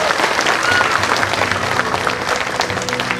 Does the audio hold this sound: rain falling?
no